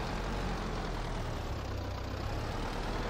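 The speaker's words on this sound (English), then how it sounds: "let's just park our tractor here" A tractor engine in Farming Simulator 22 runs as a steady, even low drone, neither rising nor falling, with no voices over it.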